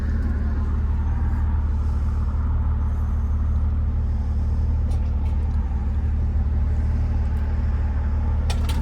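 A 1971 Mercedes-Benz 280SL with a manual transmission, freshly fitted with a new ignition coil, drives with a loud, steady low engine rumble and droning road noise throughout, with faint rattles near the end.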